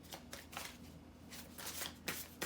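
Tarot cards are shuffled in quiet short riffling bursts, several crisp swishes and flutters spread over a couple of seconds with no one talking.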